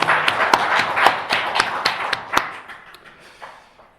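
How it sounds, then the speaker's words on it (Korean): A church congregation at a Korean Children's Day service claps in a short, loose burst of sharp individual hand claps that thins out and fades within a few seconds. "우리들에게 어린이를 주신 하나님 앞에 감사와 영광의 박수 돌립시다."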